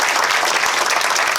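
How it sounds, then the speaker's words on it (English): A crowd claps for speakers at a groundbreaking ceremony for a university's Jewish life center, loud and sustained dense applause from start to finish with no voices over it. "Let's give a round of applause for all these amazing speakers."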